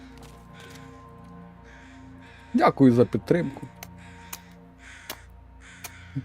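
Crows cawing in the video game The Long Dark, a few harsh calls in a brief burst mid-clip with scattered faint clicks, under someone speaking briefly at the end.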